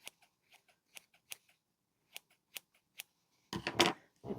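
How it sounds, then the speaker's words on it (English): Scissors trim a small black bit sticking up from a craft piece, giving a series of crisp, isolated snips spaced unevenly in quiet surroundings, then a brief louder rustle of handling at the end. "Little trim with the scissors."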